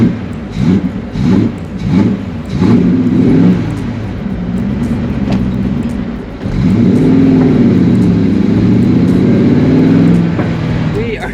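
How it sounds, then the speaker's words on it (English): A Ford GT40 runs on the highway with a loud, close engine drone. Revs rise and fall in short surges, then the car settles into a sustained steady pull, with a voice speaking over it. "Driving the GT40."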